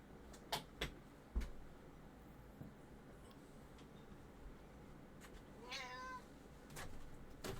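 A house cat gives a short, faint meow nearby in a quiet room, with a few scattered clicks and taps around it.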